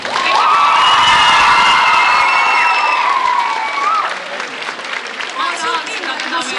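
A school audience at a gymnasium's PlayBox 2022 event claps and cheers loudly, with shouts and whoops from young voices over sustained applause that swells early and then settles into a steady, slightly thinner roar.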